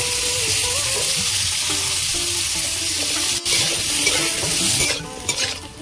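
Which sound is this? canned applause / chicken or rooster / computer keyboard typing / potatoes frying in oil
potatoes frying in oil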